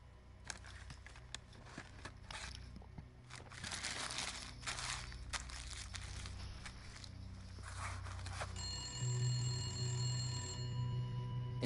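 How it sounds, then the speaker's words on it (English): Telephone bell ringing in the video game The Gallery, a repeating ring over footsteps and crinkling movement, with a steadier electronic tone entering near the end. "It's been ringing incessantly."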